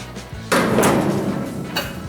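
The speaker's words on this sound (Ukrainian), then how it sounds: "Відкачавши повітря, відключаємо вакуум, закриваємо кришку" Lid of a vacuum meat marinator being shut: a single fairly loud thud with a brief rattling clatter, followed by a fainter second knock, close by with no talk.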